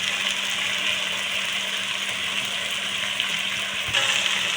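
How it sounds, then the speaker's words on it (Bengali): Garlic frying in a pan for chicken curry: a steady, close, bright sizzling hiss that holds evenly throughout with no talking. "একটু ভালো করে রসুনটা ভেজে নেব"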